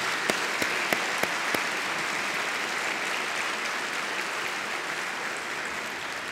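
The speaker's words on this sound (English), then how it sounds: "But please help me give them a round of applause." An audience applauds steadily at a university State of the University address, a few sharp individual claps at the start giving way to an even, sustained wash of clapping heard at a distance.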